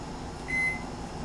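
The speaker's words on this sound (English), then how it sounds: "we're going to set the microwave on 40 seconds" A microwave oven gives a single short electronic beep as it is set for forty seconds in a kitchen, the tone faint over a soft hum of room noise.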